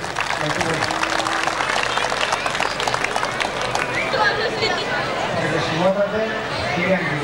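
A crowd at a 15 August celebration applauds warmly, dense clapping and hubbub from many people nearby, with voices chattering through the noise.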